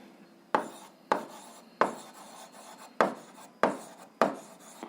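A pen scratches out a math solution on paper in six short, crisp strokes, each starting sharply and fading, spaced about half a second apart in a quiet room.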